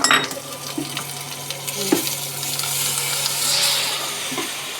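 Spices with onion, ginger, garlic, cumin, turmeric and salt frying together in a pan, a steady close sizzle with occasional scraping clinks of a utensil, no voices.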